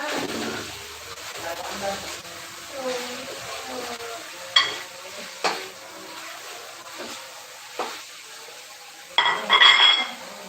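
Fried eggs being stirred into chili sauce in a pan for a festive dish, with a quiet sizzle under a few louder spoon-on-pan clanks and scrapes, and a soft voice faintly in the background.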